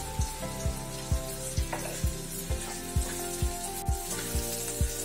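Bell peppers and broccoli frying with onions in a pan, a steady close sizzle broken by a regular run of about a dozen stirring scrapes, alone without speech.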